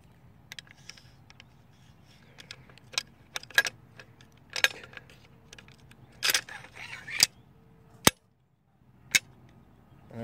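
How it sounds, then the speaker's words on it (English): Metallic clicks and slides of an AR-15 rifle bolt, a Diamondback firearm, being slid in during reassembly, scattered sharp close clacks and rattles over several seconds with a faint background hum. "Pull that out, slide my bolt in."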